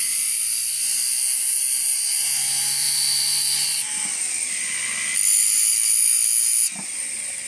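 A small rotary tool whines at high pitch with steady, shifting tones as a homemade burnisher for stone setting is slowly turned against it, the whir stepping up and down in level, close and continuous.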